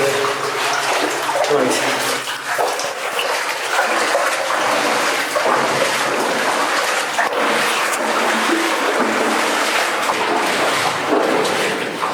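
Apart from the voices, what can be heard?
water flowing into a flooded shaft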